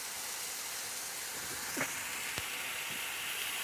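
Burgers and beans sizzle in a pan with a steady, broad hiss, broken by a few faint pops and crackles, and no talking.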